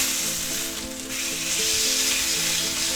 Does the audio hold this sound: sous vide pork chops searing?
yes